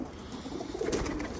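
Pigeons cooing in a loft, soft low throaty coos close by, repeating over a faint background hiss with no talk.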